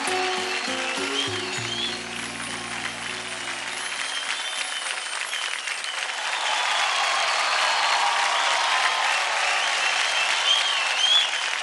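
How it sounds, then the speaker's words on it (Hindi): Studio audience applause on a televised Indian dance competition, starting beneath a fading sustained music chord and then swelling into steady, loud, sustained clapping with a few cheers for the rest of the stretch. "जोरदार ताली हो जाए उर्वशी के लिए।"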